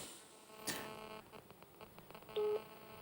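A phone at a live call-in broadcast gives a brief electronic tone after a few clicks and dial-like beeps, heard close with no one talking.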